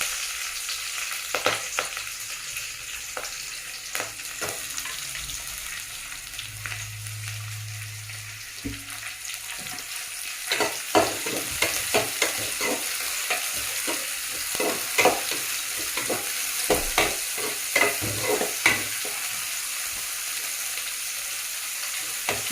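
Sliced onions fry in hot oil with a constant bright sizzle. A spatula clicks and scrapes against the pan throughout, and a brief low hum appears partway through.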